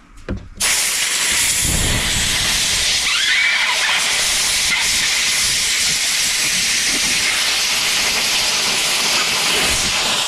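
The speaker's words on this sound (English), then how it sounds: "Blowing it with compressed air." Compressed air blasting through a gummed-up carburetor from a Honda GX390 engine on a John Deere power washer, a loud continuous hiss starting after a brief knock and holding steady to the end.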